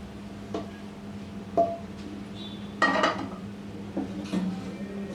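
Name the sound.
mixing rice with fried eggs and egg masala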